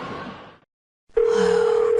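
A telephone call to an elderly grandmother goes unanswered: a stretch of line noise, a brief silence, then a loud steady ringback tone droning on, with no voices.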